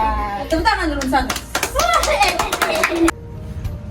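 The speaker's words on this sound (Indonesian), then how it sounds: "Tepuk tangan dulu Santa" Children clap their hands in a library session, a few scattered, uneven claps mixed with lively kids' voices chattering close by, then the noise stops abruptly.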